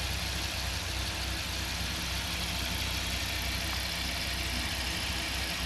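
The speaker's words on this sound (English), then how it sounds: "The car has an amazing rumble to it. It's a pushrod V10." A 2004 Dodge Viper SRT-10 roadster with an 8.3-liter pushrod V10 idles at a steady, constant rumble, close by and unbroken throughout, with no voices over it.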